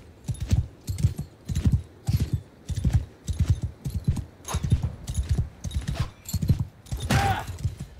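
Horse galloping in Mount and Blade Bannerlord: a steady, driving run of loud, close hoofbeats throughout, with a brief rush of noise near the end.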